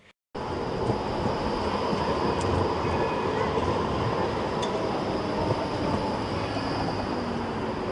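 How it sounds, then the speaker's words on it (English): A tram in Frankfurt rumbles past steadily and close, a dense continuous roar of wheels and motor that holds loud for the whole stretch, with faint metallic squeals above. "We also saw some trams while walking around the centre"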